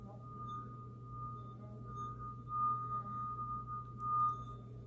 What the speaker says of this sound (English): you can believe that the glass is gonna sing.